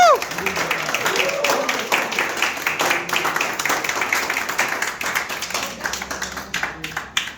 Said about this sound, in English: can you give a big round of applause for us?